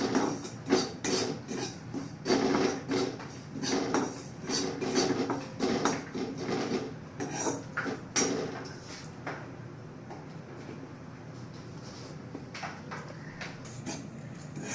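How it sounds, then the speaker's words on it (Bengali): Semolina frying in ghee in a pan at home, stirred with a metal spoon that scrapes and clinks against the pan in irregular bursts, louder at first and then softer and sparser. "সুজিটা ভেজে নেবো ভালো করে।"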